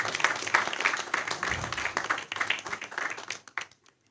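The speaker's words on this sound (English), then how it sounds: "can you give her a round of applause?" Applause at a press conference fills the room, a fairly steady patter of many hands that thins out and tapers off near the end.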